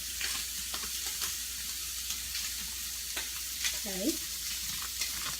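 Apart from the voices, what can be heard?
sauteing spaghetti squash in a pan, scraping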